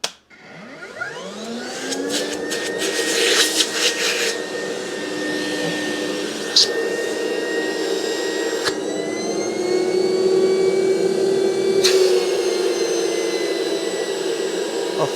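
A Rainbow E2 Type 12 black vacuum cleaner starts up and runs steadily, a loud sustained motor whine and airflow roar with a few clicks and bumps as it is handled.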